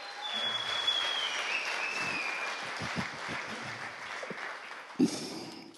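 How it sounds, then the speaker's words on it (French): An audience at a Sunday morning church gathering applauds warmly, a soft, steady wash of clapping at a distance with a sharper burst near the end. "Applaudissons la chaleureusement, mesdames et messieurs."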